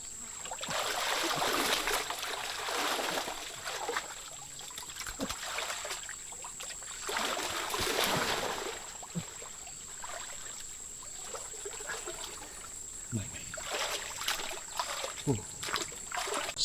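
Water trickles and splashes in a draining stream ditch, close and uneven, with louder bursts of splashing and a few sharp knocks, while people talk now and then.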